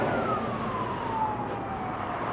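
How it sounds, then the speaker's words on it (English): An ambulance siren sweeps past along Grey Street in Innisfail, Australia, its wailing tone sliding steadily downward as it moves away. It sounds fairly close and loud over continuous street and traffic noise. "the ambulance down Grey Street"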